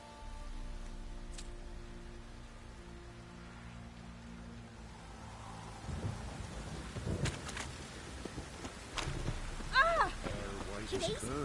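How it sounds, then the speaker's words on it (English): Soft steady rain in The Witcher: Wild Hunt, a faint continuous hiss with low rumbles beneath, while characters talk over it. "Oh, it's drizzling."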